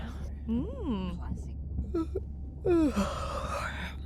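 A character in the underwater game Beyond Blue lets out a drawn-out, rising and falling yawn, followed by short breathy vocal sounds and a second long exhale, close and clear over a low background hum.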